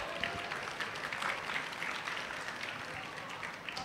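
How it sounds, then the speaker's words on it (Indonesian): An audience at a personal finance class claps together in a dense, even patter that holds steady for several seconds, moderately distant and fairly soft, with no voices on top. "Beri tepuk tangan yang meriah dulu untuk kita semua."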